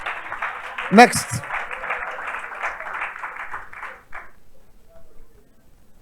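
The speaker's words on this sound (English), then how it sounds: "Clap for me now." Audience clapping at a seminar, a broad wash of applause filling the first four seconds under a spoken word before fading away.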